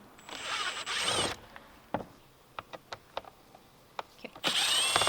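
A power driver whirs on T20 Torx bolts holding the air intake box of a 2018 VW Atlas, with a burst at the start and another at the end and small clicks and taps of parts between them.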